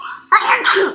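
A single sharp, close sneeze bursts out after a soft intake of breath, loud and abrupt, followed by a brief trailing exhale.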